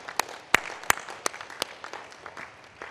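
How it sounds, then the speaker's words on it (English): A handful of sparse, sharp claps spaced apart over a quiet background at a conference closing ceremony, like a small scattered round of applause. "Let's give you all a round of applause."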